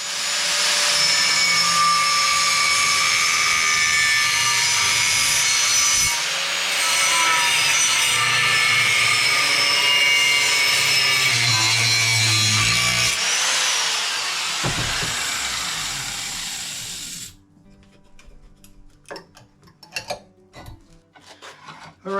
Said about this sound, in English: Okay, so now I'm going to get my grinder,